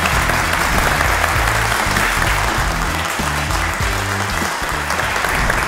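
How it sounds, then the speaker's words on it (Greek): Studio audience at a Greek home-appliance game show gives sustained, loud applause, a dense continuous wash of clapping that holds steady throughout with music underneath. "Ένα μεγάλο χειροκρότημα στον Αντώνη μας."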